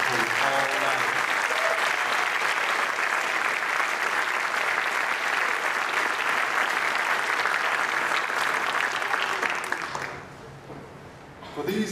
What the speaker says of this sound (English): How about another round of applause for those soldiers who are